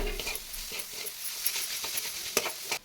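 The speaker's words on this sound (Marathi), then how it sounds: "आता मिडियम गॅसवरच आपल्याला हे असं परतून घ्यायचं आहे" Grated coconut and chopped jaggery for a modak filling sautéed in a pan over medium heat: a soft crackling sizzle with repeated scraping strokes of a spoon, close and fairly quiet.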